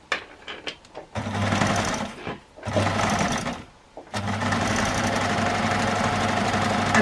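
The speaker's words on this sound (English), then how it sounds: "let's go back onto the machine, and again we are going to start with a reverse stitch just to ensure that that stays in position." An electric sewing machine runs a reverse stitch on a crossbody shoulder bag, humming in three steady runs separated by brief stops, close and loud.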